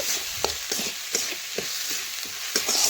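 Potatoes fry with spices on a clay wood-fired stove, a soft sizzle broken by repeated stirring scrapes at an irregular rhythm, close by and moderately loud.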